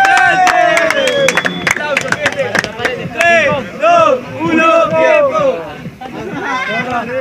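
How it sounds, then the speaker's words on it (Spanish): At a freestyle rap battle, an audience claps and cheers over a booming voice, with sharp hand claps early on giving way to a lively mix of crowd noise, shouting and rapid talk. "¡Aplausos!"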